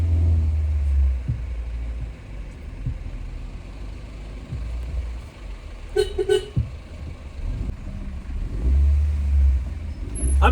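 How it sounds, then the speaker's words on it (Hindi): A car engine idles and revs while reversing along a narrow one-way mountain road toward Triund as a truck approaches, with a low rumble rising and falling throughout and a brief horn-like tone near the middle. "अब मुझे गाड़ी पूरी पीछे करनी पड़ेगी अपनी"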